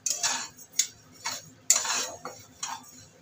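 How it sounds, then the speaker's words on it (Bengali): Moong dal is dry-roasted in a hot wok, stirred with a metal spatula in several sharp scraping and clinking strokes, close and clear with nothing else heard. "কড়াইটা গরম হয়ে গেছে, আমি ডালটা দিয়ে দেবো কড়াইতে"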